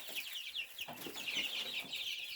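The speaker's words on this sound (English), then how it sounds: "we've got our turkeys in here and our younger chicks" Turkeys and young chicks in a pen give a steady stream of high peeps and soft clucks, close by and continuous, with no talking.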